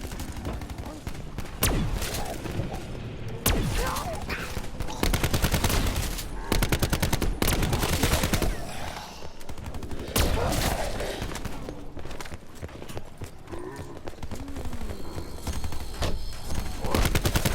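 Weapon gunfire in Call of Duty Black Ops 4 Zombies, loud rapid bursts of shots and booming impacts repeating over about seventeen seconds, with occasional speech mixed in.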